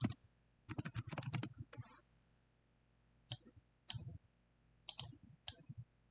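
Quiet, crisp mouse clicks come in quick clustered bursts, pausing between groups, close and dry with no talking.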